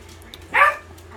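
A single short bark from a dog performing a speak trick on command, close and clear against a quiet room.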